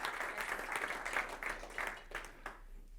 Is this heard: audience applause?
yes